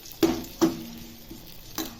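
Onion, garlic and capsicum frying in a pan for garlic chicken, with a soft steady sizzle and several sharp stirring scrapes spaced apart, close and fairly quiet.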